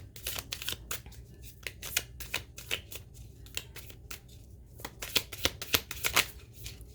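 Moonology oracle cards are shuffled by hand, a close, quiet run of rapid papery riffles and flicks in uneven bursts, busiest near the end, with no talking.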